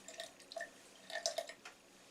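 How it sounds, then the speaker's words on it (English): Hot tap water running into a sink and splashing onto a cold weather suit, heard as faint, irregular drips and light splashes, quiet and close, with no talking. "So I'm just going to put the hot tap on and get this wet."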